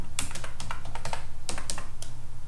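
Fingers typing on a computer keyboard: a steady run of crisp, close key clicks at an uneven rhythm, with a few louder taps standing out and a low hum underneath.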